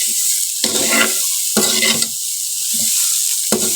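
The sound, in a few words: peas being dry-roasted and stirred in a pan for nimko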